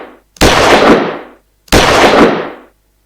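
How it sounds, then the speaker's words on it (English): A single-shot pistol gunfire sound effect made for a video game fires twice, each a loud, sharp crack with a short, decaying tail, separated by silence. "Single shot pistol."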